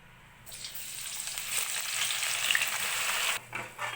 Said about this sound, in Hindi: और प्याज को फ्राई करने के लिए यहाँ पर हमने ये आधा लीटर तेल लिया है, जिसे हमने हाई फ्लेम पे अच्छी तरह से गर्म कर लिया है